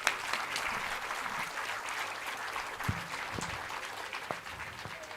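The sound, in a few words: audience applause welcoming dignitaries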